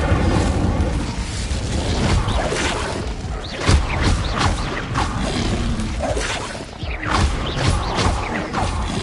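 Fire spell Incendio cast in the Hogwarts Legacy video game: dense, crackling bursts and whooshing blasts over steady rumbling game noise, several sharp flares standing out, with no talking.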